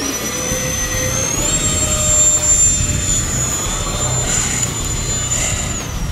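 An FMS A-10 Warthog RC model jet flies inverted at high angle of attack, its ducted-fan engines giving a loud, steady whine and rush throughout, a thin high tone sliding slightly as thrust shifts.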